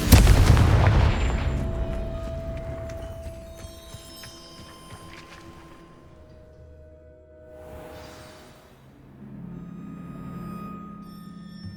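Confringo spell fired in Hogwarts Legacy: a loud, booming fiery blast that decays over several seconds, followed by a second softer whooshing burst and a lingering low rumble.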